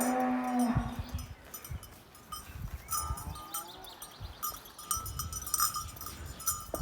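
Cows on a farm let out several loud, drawn-out moos, some close and some farther off, mixed with clanks and rustling and a few faint voices in the background.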